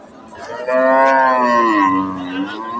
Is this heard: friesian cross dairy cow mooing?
yes